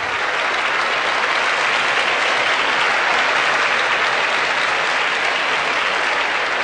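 Dense, steady applause and cheering from a large pageant audience for Miss USA, Courtney Gibbs, at the Miss Universe 1988 contest, loud and continuous throughout with no break.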